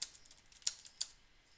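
Several quick, sharp keystrokes on a computer keyboard, clustered at the start then spaced out, quiet and close with no talking.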